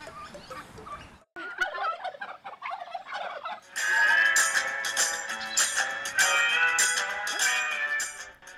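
Turkeys gobble loudly and repeatedly, several birds overlapping in rapid bursts, with other fowl such as ducks and hens calling faintly before the chorus starts, at a farm animal shelter.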